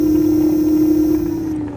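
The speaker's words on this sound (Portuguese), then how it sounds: "Aqui você consegue ouvir o barulho do motor" A Multilaser Atrio Off Road ES325 electric scooter's motor gives a steady, loud whine with a constant pitch, nearby and without speech, easing slightly toward the end.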